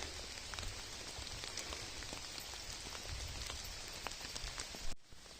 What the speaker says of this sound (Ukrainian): А ну, дощик посилюється.